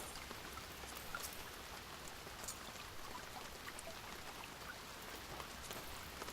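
Faint, steady rainfall patters evenly throughout, ambient rain from the video game Final Fantasy XIV, a soft continuous hiss of drops with no voices.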